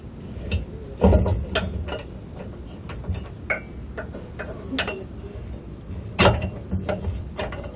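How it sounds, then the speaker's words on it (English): Metal clicks and clanks come from a truck bed extender being positioned and secured with a hitch pin and clip, with scattered sharp ticks and knocks close by, some louder than others, and no talking. "line up the hitch pin hole here, and secure it down with the clip"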